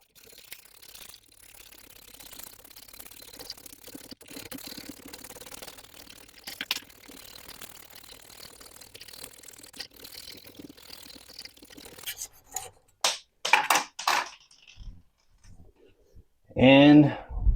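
A Pioneer Arms 5.56 underfolder handguard part clamped in a vise is cut, giving faint, quick rasping strokes that build into louder, separated bursts near the end.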